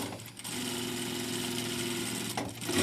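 Juki 8000C sewing machine running a straight stitch at 2.8 length, a steady close mechanical whir that holds evenly for about two seconds, then stops, with no talk over it.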